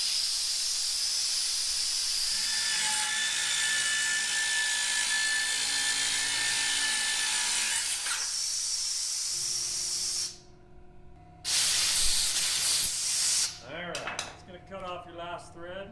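Compressed air blows through a part during thread cutting on an off-road wrecker build, keeping metal shavings out: a loud, steady broadband hiss for about ten seconds, a brief break, then another burst before it tapers into clattering workshop noise.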